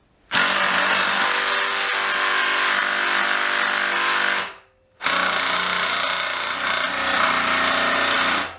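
RYOBI R18QS Quiet Strike impact driver running while jamming on a fastener, a loud continuous whirring, grinding drone for about four seconds, a brief cutoff, then another sustained burst of the same steady noise.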